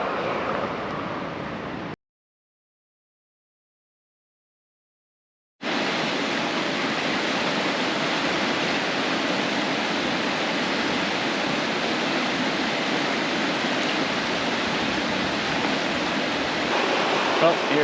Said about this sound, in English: Rushing river, still raining.